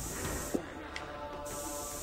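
A health spray is used in the 2008 video game Alone in the Dark, making a soft, steady aerosol hiss that briefly cuts out midway and then resumes, quiet and with no talking.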